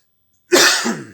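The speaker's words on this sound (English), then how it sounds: "I don't mean to be coughing all the time." A sudden loud cough bursts out after a moment of silence, a single harsh hacking fit with a brief second push, close to the mic in a workshop during a chainsaw build.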